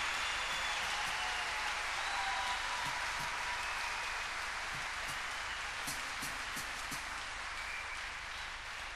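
A concert crowd at an indoor show at Aula Magna, Lisbon, produces a continuous wash of clapping and crowd noise. It is heard from a distance, faint and steady, with no distinct beat standing out.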